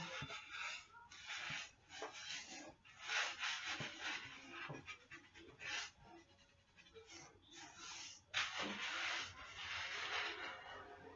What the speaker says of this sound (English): Because that first scrub is that good scrub.